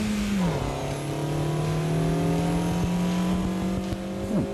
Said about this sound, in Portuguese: Ouve só o ronquinho do motor.